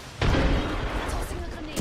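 A grenade explodes in a video game firefight, one booming blast after a short quiet lead-in, followed by a rumbling tail and scattered smaller pops.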